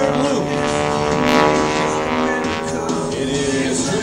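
A classic WWII Army trainer propeller plane, Big Red, flies aerobatic loops at an air show, its steady droning engine continuous and fairly loud with a shifting pitch as it climbs and turns.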